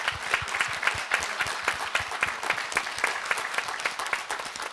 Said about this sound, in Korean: 우리 청중들 여러분들께 서로에게 큰 박수 한번 쳐주시고요.